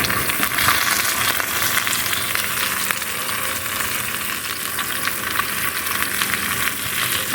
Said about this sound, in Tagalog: gisa tayo ng sardinas